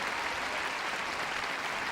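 Steady, dense crowd applause for runner-up Natalie Tauziat at the 1999 Eastbourne women's tennis final, a continuous wash of clapping from a large audience.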